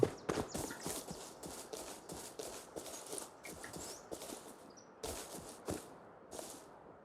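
Footsteps of a character running in the survival game Rust, a quick series of crisp thumps in bursts, fairly close and clear over a quiet background.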